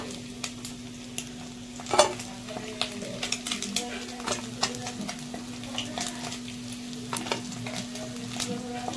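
Fish (puti, small barb) sizzling steadily in hot oil, with scattered clinks and scrapes of a utensil in the pan and a constant low hum behind.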